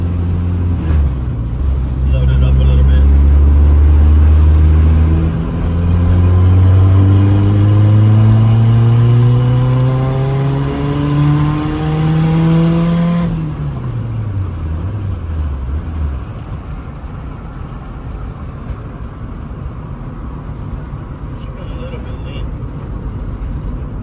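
A turbocharged Honda F20B engine pulls hard under load in fourth gear, its rising drone climbing steadily for about thirteen seconds before the revs drop away to a lower, rougher idle-like hum.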